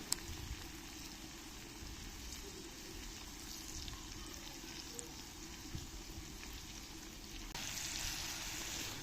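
Chopped tomato fries gently in a pan for an okra and egg dish, a faint, even sizzle with soft crackles throughout and a slight swell near the end.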